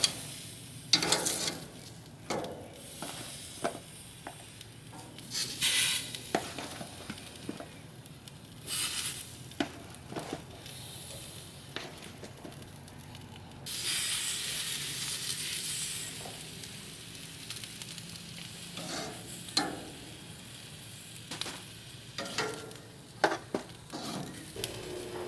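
Parboiled vegetables seasoned with salt, pepper and butter sizzle on an outdoor grill in a faint, continuous hiss, broken by scattered clicks and taps and a louder rushing stretch midway, with no talk.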